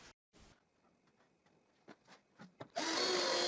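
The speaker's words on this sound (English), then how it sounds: "Now I can screw 1/2 in the edge of the plywood base." A cordless driver sets a screw into the edge of a plywood base. A few faint taps and scrapes lead to a loud, sustained whirring burst near the end.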